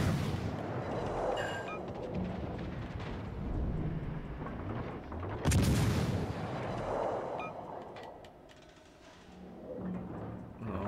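Naval gunfire in the warship game World of Warships Legends booms in heavy, rumbling bursts, with a sharp loud blast near the middle and distant explosions rolling beneath.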